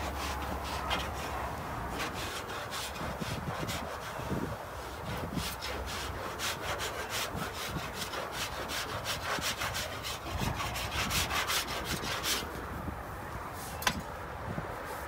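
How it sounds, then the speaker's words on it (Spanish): Steady, rhythmic hand sanding of body filler on a car, close up, rasping back and forth continuously with no pauses and no talking. "Ahora, voy a lijar acá de este lado."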